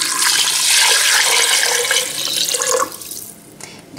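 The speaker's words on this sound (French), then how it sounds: "après la coloration de la viande, je vais mettre de l'eau" Water pours steadily into a pressure cooker holding browned meat for an Algerian Ramadan meal, a bright rushing splash that tapers off near the end, with no voices.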